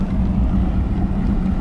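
A Johnson 150–250 hp outboard boat engine idles at close range with a steady, loud, low rumble, unbroken for the whole stretch with no voices.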